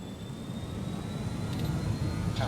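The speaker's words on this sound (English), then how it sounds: "let's get this aircraft into the sky." BAe146 jet engines spooling up for takeoff in Microsoft Flight Simulator, a steady low roar and rumble with a thin high whine running through it, with no voices.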